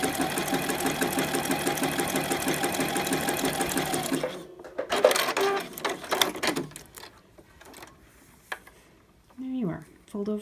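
A sewing machine stitches fold-over elastic, running in a steady, dense mechanical whir for about four seconds, then giving way to short bursts of handling and fabric rustle with brief pauses.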